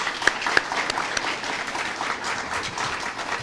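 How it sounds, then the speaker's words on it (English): A crowd at a high school Hall of Fame ceremony applauds the inductees, a full, continuous wash of clapping with a couple of sharper claps standing out early before it settles into a steady roar. "if we can have another round of applause for them"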